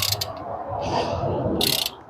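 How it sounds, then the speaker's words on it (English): A torque wrench ratchets on the rocker arm bolts of a Jeep 4.0-liter engine, giving two short bursts of quick clicking separated by a softer mechanical stretch, close by and moderately loud. "I've already torqued the front two cylinders to 19 foot-pounds"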